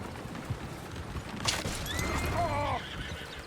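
Horses in Red Dead Redemption 2 whinny loudly and clip-clop nearby, with a shrill neigh rising over hoofbeats and game clatter.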